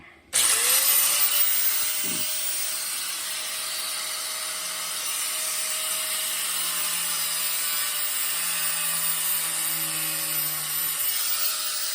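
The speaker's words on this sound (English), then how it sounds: "I'm gonna go ahead and take my grinder and cut this other side now." An angle grinder cuts through the plastic radiator hose fitting on a 2014 Jeep Compass, a loud, steady high-pitched whine that starts abruptly and holds for about ten seconds with a brief knock near the start.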